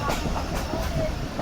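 A train rolls along railway tracks at a Pakistan Railways junction, a steady rumbling roar with rhythmic clatter, loud and continuous throughout the short stretch.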